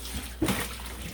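Soapy rinse water is dumped out of a soaked item into a basin, making a brief, faint splash and trickle midway through an otherwise quiet moment.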